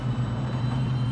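Car engine at about 200 mph in Forza Horizon 5, an all-wheel-drive European car, giving a steady, loud, droning roar that sounds like an airplane, with no talk over it.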